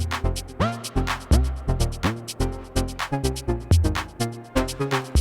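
An electronic transition pattern from an Ableton Move groovebox, with punchy kicks, pitch-swept bass hits and bright percussive stabs repeating in a steady, busy rhythm, loud and alone with no voices.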